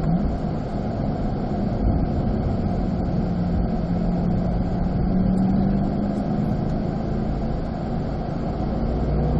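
A Corvette drives a race track at Spring Mountain, its engine droning steadily and loud in cabin throughout, with a rising tone that fits accelerating before braking; no talk.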